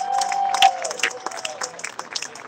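A crowd at a live FLW bass fishing tournament weigh-in on Clear Lake applauds and cheers its new champion, a dense burst of clapping with scattered shouts heard close and loud, with a voice ringing over the start.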